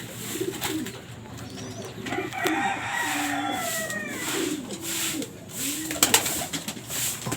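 Young pigeons leave their loft with bursts of wing flapping and repeated low cooing, mid-distance and fairly soft, with a sharper flurry of wingbeats near the end.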